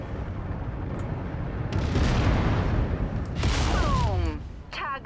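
A mech blows up in MechWarrior 5 combat, a broad rumbling blast that swells and holds for a couple of seconds, with a second surge and crackling debris after, close and loud.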